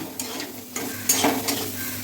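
Food crisps in a hot pan with a soft continuous sizzle, broken by a few spatula scrapes and stirring clinks near the mic, no voices.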